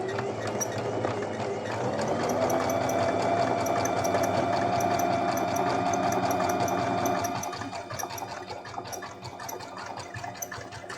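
A sewing machine running a gathering row of long stitches on fabric makes a steady, close mechanical hum with a fast ticking needle beat, easing to a lighter whir for the last few seconds.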